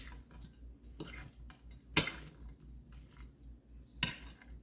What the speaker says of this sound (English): I'm gonna use this fork actually. Just gonna kind of mix all this stuff together